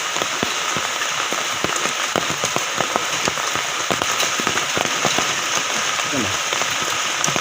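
Steady rain drums on a surface beside a traditional net-fishing spot, a dense, close patter of individual drops that continues without pause throughout.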